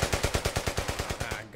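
Suppressing fire in Brothers in Arms: Hell's Highway, heard as one close, rapid burst of about a dozen evenly spaced machine-gun shots.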